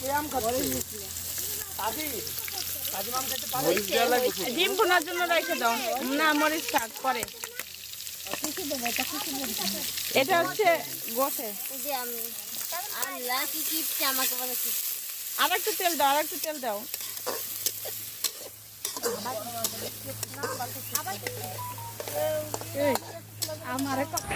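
Onions fry in a little oil at a village children's picnic, giving a continuous soft sizzle with some stirring, mostly under lively nearby talking.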